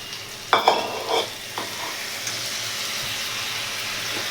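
Spice masala for a fish malai curry frying on a low gas flame, a steady soft sizzle with a few close stirring scrapes at the start, then a continuous gentle hiss.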